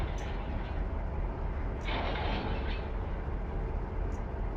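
Freight train rumbling steadily in a train simulator game, a continuous low engine and wheel drone with a brief brighter hiss in the middle, no talk.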